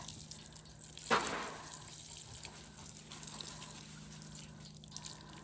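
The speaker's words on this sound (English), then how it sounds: "I'm going to water it in really, really good." Water from a watering can splashes and trickles onto a potted fuchsia plant on a front porch, a brief louder gush near the start settling into faint, steady dribbling and soaking with no talk.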